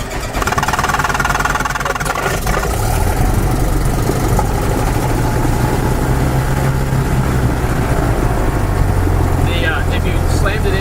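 A small propeller airplane's piston engine runs steadily at idle after start-up on the ramp, a loud constant low rumble throughout with people talking over it.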